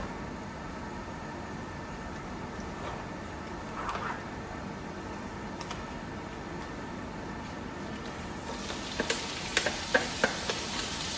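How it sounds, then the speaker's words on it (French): Bacon lardons fry in hot oil for a French fried-rice dish, giving a steady close sizzle throughout that grows brighter with a few sharp crackling pops near the end. "Quand ça commence à chauffer, je vais mettre mes lardons."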